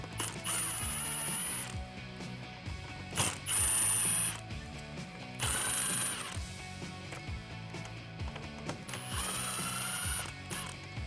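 A ratchet clicks rapidly in repeated bursts, backing out 7mm screws from the plastic under tray of a 2018-2019 Ford Mustang, close and clear with short pauses between screws and no talking.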